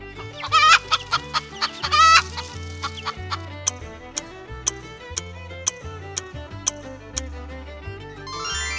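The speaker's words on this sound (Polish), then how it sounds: "To kura." A farmyard chicken clucks in quick, choppy bursts during the first two seconds, close and clear, then light music with an even ticking pulse carries on alone.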